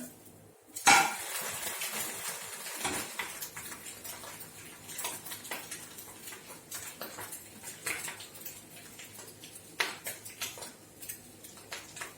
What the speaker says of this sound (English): Now I'm going to flip the egg.